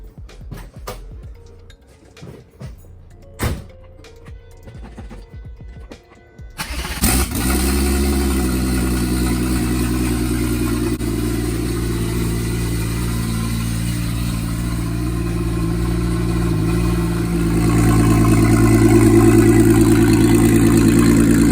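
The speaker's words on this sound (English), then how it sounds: "let's get this beast pulled out and get her all warmed up" A turbocharged VR6 Passat engine cranks and fires after a quiet stretch of small clicks and knocks, then settles into a steady, loud idle that swells slightly louder toward the end while it warms up.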